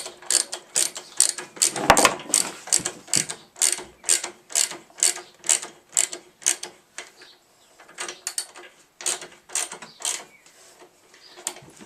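Ratchet clicking in steady bursts as a sidemount plate bolt is tightened on a Harley-Davidson Sportster 883 Iron, about twenty close, crisp ratcheting strokes with brief pauses between, no talk.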